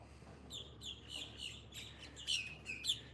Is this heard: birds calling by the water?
yes